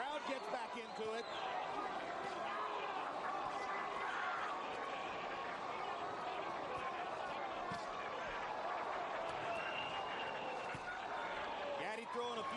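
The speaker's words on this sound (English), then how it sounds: "Crowd gets back into it" A dense arena crowd roars steadily throughout a Gatti vs Ward boxing fight, a continuous wash of cheering and chatter under a commentator talking.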